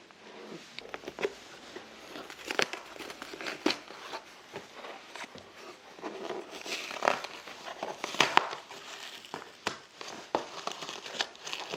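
Packaging crinkles and rustles as a parcel of books is unboxed, making irregular crackles and sharp rustles of moderate loudness with short pauses between handling bursts.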